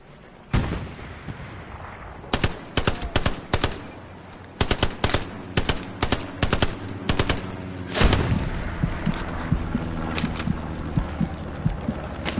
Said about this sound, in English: I'm taking fire right now. It's going right over my head.